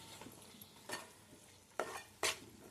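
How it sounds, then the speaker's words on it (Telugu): A spoon stirs chili powder into a cooked-down masala paste in a pan: three distinct scraping strokes, the last two close together, over a faint, steady sizzle, quiet and near, with no voices. "కారం వేసుకుందాం, కలుపుకొని కారం కూడా బాగా మగ్గాలండి"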